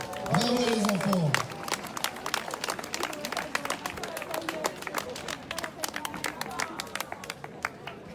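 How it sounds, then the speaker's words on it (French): Audience applause at a youth award ceremony in Sion, Switzerland: scattered, crisp claps from a modest crowd continuing throughout, with a loudspeaker voice and chatter briefly at the start. "Un tonnerre d'applaudissements pour nos futurs champions"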